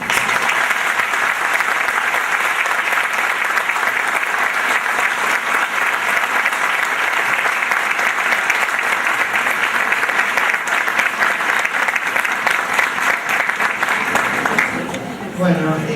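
An audience at a nursing professional-development conference in Tucumán applauds after a song, dense steady clapping filling the room for about fifteen seconds before tapering off.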